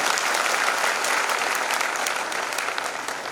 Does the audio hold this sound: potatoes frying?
no